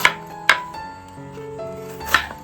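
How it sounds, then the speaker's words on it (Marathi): Knife chopping onion on a cutting board for a homemade vegetable dish, with a few sharp, close chops spaced apart over a quiet kitchen background. "तुम्ही इकडे कांदा आता सर्व कटिंग करून घेतोय"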